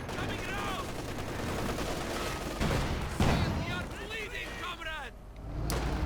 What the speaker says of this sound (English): Raketenwerfers seem more than happy to sit back and throw rounds at the at the Soviet heavy tank